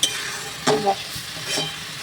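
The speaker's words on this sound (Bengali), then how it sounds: "কড়াইয়ের মধ্যে দিয়ে দিয়েছি বন্ধুরা নারকোলটা," Grated coconut mixed with jaggery is stirred in a wok, soft scraping strokes over a low sizzle. A few brief scrapes come close by, with no talk.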